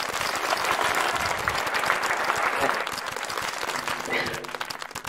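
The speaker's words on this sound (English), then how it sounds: "I would like to encourage you to give a big round of applause" Conference audience applauding its sponsors, a dense, steady wash of clapping that stays loud and continuous throughout, with a faint voice briefly surfacing near the end.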